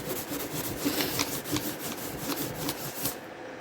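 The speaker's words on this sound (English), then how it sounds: "Buffing activates the wax." Steady rhythmic rubbing as a cloth buffs dried wax on a handmade coffee sleeve, with quick repeated back-and-forth strokes that stay close and fairly loud throughout.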